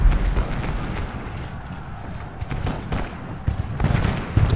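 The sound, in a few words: artillery firing in video game Ultimate General: Gettysburg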